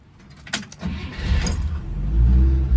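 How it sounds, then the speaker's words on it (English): A 1960 Rambler Super with a three-speed column-shift manual fires up after a short crank and keys jingling, then settles into a low, quiet idle close by. "Starts right up like that."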